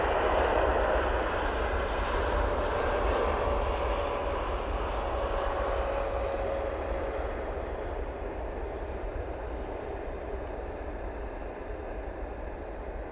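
An Emirates airliner taxiing through a tight turn onto the runway at Manchester Airport, a steady moderate engine rumble and whine that fades slightly over time, heard alone.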